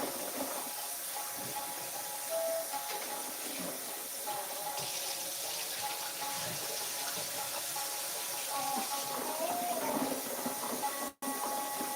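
Wooden cutting boards rinsed under a running kitchen tap, a steady close hiss and splatter of water that carries on without a break, with faint clinks underneath.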